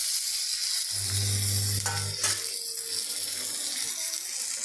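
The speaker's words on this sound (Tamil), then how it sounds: "லைட்டாக வதக்குனா போதும் ரொம்ப வதக்க வேண்டாம்" Goat spleen fries in a pan with a steady, hissing sizzle, joined by a few brief clinks and stirring sounds near the middle.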